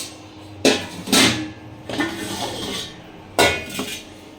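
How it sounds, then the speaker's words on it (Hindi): A kadhai and a cooking pot are handled and set down in a home kitchen, with several distinct metallic clanks and scrapes spaced a few seconds apart, fairly close and loud, with no talking. "ये मैंने कढ़ाई यहाँ पे रखा है, निकाल के से ऊपर रखती थी भगोने को रखा है।"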